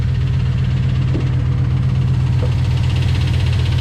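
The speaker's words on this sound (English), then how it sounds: "It's got some lifter noise" Steady mid-pitched idle of a Dodge engine in a no-start diagnosis, with a faint ticking lifter noise running through the constant drone, heard close and alone with no talk.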